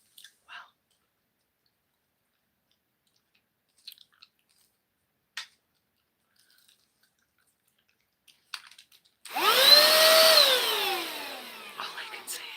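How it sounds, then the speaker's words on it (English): After a long near-silence broken by faint clicks, a recently charged vacuum cleaner starts up with a loud motor whine that swoops up and back down, runs for a few seconds, then trails off. "How's the vacuum working?"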